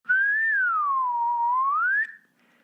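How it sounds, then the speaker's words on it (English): A person whistles into a microphone, a single close, loud tone of about two seconds that rises, dips slowly and climbs again before stopping abruptly. "Was that louder when I whistled into it?"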